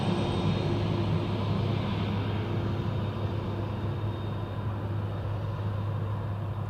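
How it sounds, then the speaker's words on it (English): Airbus A300 cargo plane at Memphis airport, heard as a steady, loud jet engine rumble with a constant low drone held throughout, no voices. "So this is the A300 from St. Louis."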